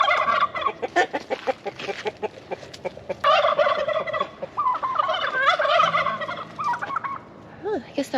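Turkeys gobble repeatedly in rippling bursts near a garden, mixed with chicken clucks and other fowl calls, a busy flock sounding close and loud throughout.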